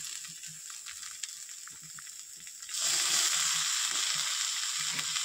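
Cabbage curry, a vegetarian dalna with boiled cabbage and potato, stirred in a pan. Soft scraping sits under a light sizzle that suddenly swells into a loud, steady frying hiss about halfway through. No one speaks.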